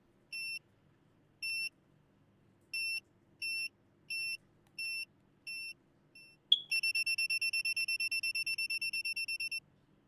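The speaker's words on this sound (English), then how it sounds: "You're going to hear a little beep." Electronic beeps from a wrestling video game in development: a series of short, evenly spaced high-pitched tones, then a rapid continuous run of quick beeps, clean and alone with no talking.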